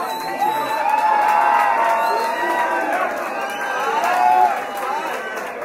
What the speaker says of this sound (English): Crowd of people, raise a glass, make some noise, young warrior, please.